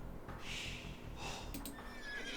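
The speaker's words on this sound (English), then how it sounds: "The horse, Babieca, comes from the renowned royal stables of Seville." A horse whinnies in the Age of Empires II campaign, a bright neigh rising over steady game ambience and music, followed by a couple of short sharp effects near the end.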